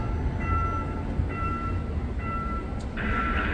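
Trains roll through the Seosomun railway level crossing in Seoul with a steady low rumble, while a crossing signal chimes in a repeated high two-tone pattern above it.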